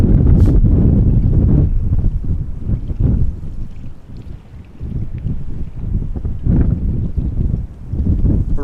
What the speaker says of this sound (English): Wind is coming mostly from the south, a little bit from the west.